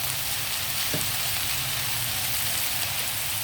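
Dried fish and vegetable curry frying in a pan, a steady, close broadband sizzle that continues evenly throughout without talk.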